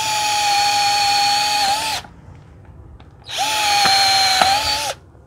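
Two long runs of a used Japanese two-speed cordless drill boring holes, each a loud steady whine of about two seconds close by, separated by a short pause.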